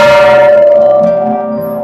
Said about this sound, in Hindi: मैंने इस घंटी को बजाया जिसके बाद मुझे एक वाइब्रेशन महसूस हुई।